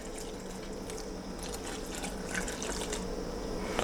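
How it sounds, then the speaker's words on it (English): Warm water runs and splashes in a steady, quiet stream as it is poured into a mixer for bagel dough, with faint clinks. "take your warm water and you're going to pour it in."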